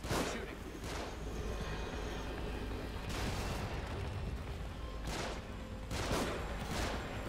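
Gunfire erupts in the survival horror game The Evil Within, loud bursts of shots repeating at irregular intervals over a dense, noisy combat background.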